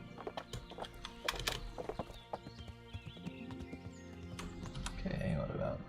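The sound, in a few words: horse hooves in Kingdom Come: Deliverance video game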